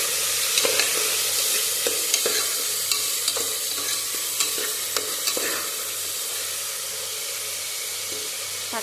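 Tomatoes frying in a pan with green chillies and curry leaves for tomato rice, a steady close sizzle broken by repeated scraping stirs of a spoon, with no talking.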